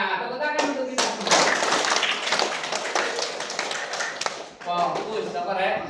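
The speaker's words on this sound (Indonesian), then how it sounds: "Ya, tepuk tangan untuk kita." A training group claps together in bursts, sharp hand claps in a loose rhythm filling the room, with voices talking before and after the clapping.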